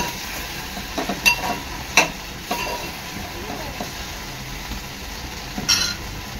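Okra (bhindi) cooking in a pan over a low gas flame gives a soft, steady sizzle, broken by a few short clinks and scrapes of stirring, with no talk over it.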